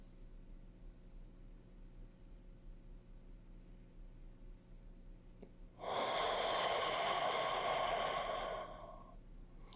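A single breath blown over a container of water: quiet room tone, then a loud, close, breathy exhalation lasting about three seconds before fading away, with no talking.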